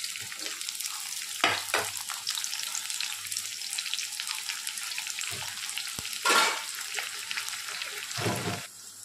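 Cumin, onion, green chilies and curry leaves fry in a pan with a dense, continuous hiss and crackle, broken by a few louder stirring scrapes, with no talking.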